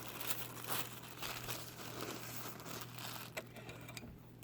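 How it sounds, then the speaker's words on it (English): Scissors cutting blue tissue paper, with close, soft crinkling and rustling of the paper and faint snips, quiet and continuous. "So, let's cut some blue paper."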